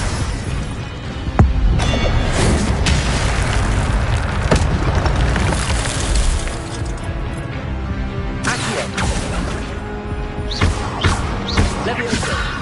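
Spell effects from a Harry Potter video game, the Incendio fire spell among them, land as repeated booming bursts and thuds, with a voice shouting spell names over the busy game sound.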